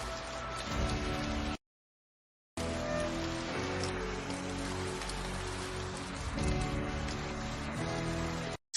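Pouring rain makes a dense, steady hiss, with a low musical tone mixed in. It cuts out completely for about a second, then carries on unbroken to the end, with no speech.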